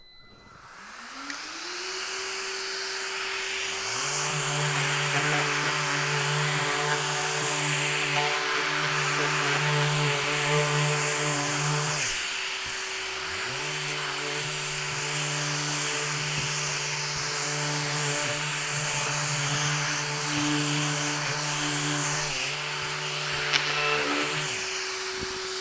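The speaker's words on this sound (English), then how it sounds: "I have a 180 grit sandpaper right here, and I'm gonna just sand this thing" A power sander with 180 grit paper runs steadily over a lacquered cabinet door, a continuous whirring hum with a grainy abrasive hiss, briefly dropping and restarting partway through.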